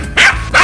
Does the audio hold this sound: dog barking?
yes